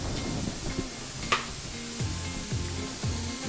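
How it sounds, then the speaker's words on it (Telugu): Sweet corn frying in a pan, a soft, steady sizzle with an occasional stirring scrape, set under a quiet, repeating musical tune with no talk. "తర్వాత దీంట్లో నేను స్వీట్ కార్న్ వేస్తున్నాను అనమాట"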